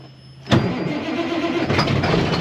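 A 1995 Peterbilt 362 cabover truck with only two batteries fires up on a cold first start, a sudden loud catch that settles into a rough, steady idle, close by with no talking.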